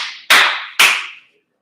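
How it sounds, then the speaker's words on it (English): Two sharp, loud hand claps about half a second apart, each ringing out briefly before fading, with silence after. "I'm gonna do the clap this time. Do it loud."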